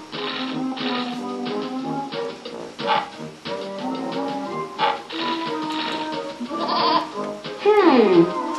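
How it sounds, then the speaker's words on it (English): A cartoon goat blocking the road to Apple Valley in a Putt-Putt video game bleats in several wavering calls, mixed with light tapping effects and a character voice speaking, ending on a drawn-out falling bleat. "That goat is blocking the road to Apple Valley."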